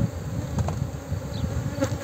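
Aggressive honeybees swarming around an opened hive during beekeeping work, a dense, close, agitated buzzing that fills the short stretch without any voices.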